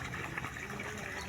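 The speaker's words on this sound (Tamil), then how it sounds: "இது தண்ணி பம்பு, நீர்மூழ்கி மோட்ரு. தண்ணி வெளியே ஊற்றிக்கிட்டு இருக்குது." A submersible water pump pours water out into a farm field near sugarcane and paddy crops, a steady broadband rushing gush, close and continuous with no clear breaks.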